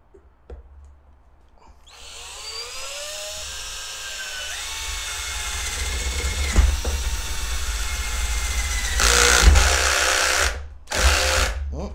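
Vacuum cleaner used indoors during the rebuild of a twin GTX 1080 Ti custom rig frame, starting after a short gap with a whining motor tone that rises in pitch, running steadily and loud with brief louder surges near the end.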